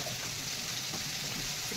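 Taro stolons (kochur loti) dropped into a pot of hot water for a Bengali shrimp dish, giving a steady, close watery gush and bubbling that runs evenly through the short moment with no talk.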